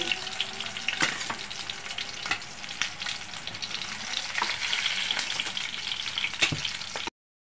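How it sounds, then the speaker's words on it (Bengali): Pieces of pangas fish fry hard in hot oil in a pan, a steady dense sizzle with scattered crackles and occasional utensil scrapes, close by and continuous until an abrupt cut. "এভাবে কড়া করে ভেজে নেবেন একটু"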